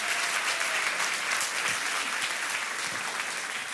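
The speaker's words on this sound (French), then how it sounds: "Est-ce qu'on peut les applaudir bien fort" A French-speaking church congregation applauds loudly during a Sunday morning service. The dense, sustained clapping from many hands fills the room evenly without a break.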